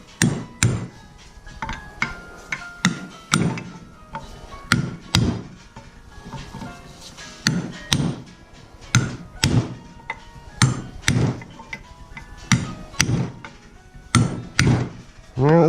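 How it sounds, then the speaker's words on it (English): A rail hammer pounds the lower ball joint on a 2004 Honda Accord: a series of loud, sharp metallic blows in an uneven rhythm, close by, with short pauses and faint voices between strikes. "Use a rail hammer."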